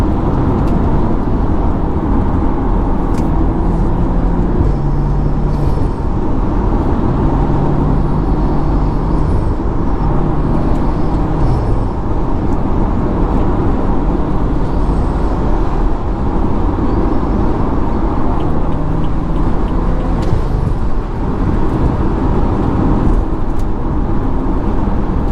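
A Stage 2 tuned BMW on a late-night highway run roars loud and constant from inside the cabin, a dense engine, turbo and exhaust drone with no pauses or talk.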